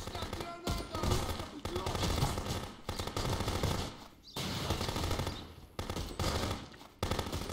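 Rapid automatic gunfire strikes the player in the police game Contraband Police, with dense, loud volleys that break off briefly and then resume.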